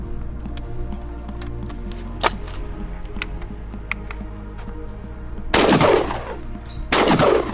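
An AR-15 rifle fires two rounds of light target load: two loud, sharp cracks with ringing decay about one and a half seconds apart, over a steady background hum with faint clicks, no talking.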